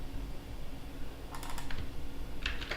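Someone types briefly on a computer keyboard while setting up a remote desktop connection on Fedora, giving a few quick clusters of close key clicks over quiet room hiss, with no talk.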